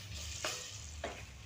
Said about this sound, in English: So I'll add the flour as I stir